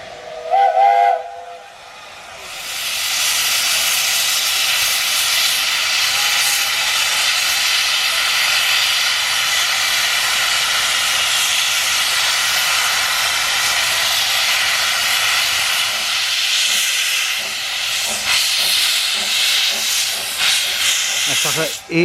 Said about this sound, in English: We're back to a proper steam locomotive this week.